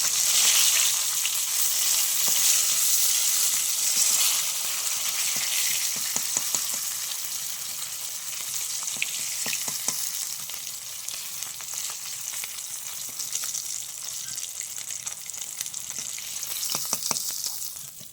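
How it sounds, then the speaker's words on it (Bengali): Rohu fish fry steadily in hot oil, a continuous bright sizzle with occasional crackles and pops. The sound runs on without any talking. "মাছগুলো দেখো সব ভাজা হয়ে গেছে"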